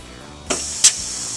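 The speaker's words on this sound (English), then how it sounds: "Sprayer comes forward. Spraying the shirt, pull it out, pre-treated shirt." DTG pretreatment machine spraying a T-shirt, two short sharp hissing sprays in quick succession over a steady mechanical hum, close and loud.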